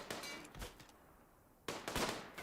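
Heavy SMG fire in a Rimworld PvP match, heard as two separate bursts of sharp crackling shots with a quieter gap between them.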